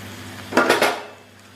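A metal lid comes off a pot of okra and potato curry simmering on a medium flame, giving a brief, close clatter of two or three knocks before falling quiet.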